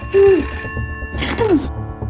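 A telephone rings in two bursts of bright trilling bell, loud and close, with a brief gap between rings and a soft voice murmuring under it.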